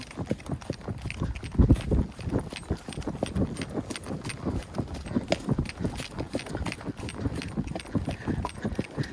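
A horse's hooves walk along a trail at Mammoth Cave in a steady, rhythmic clip-clop, close and fairly loud, with a few heavier thuds and faint rustling around the footfalls.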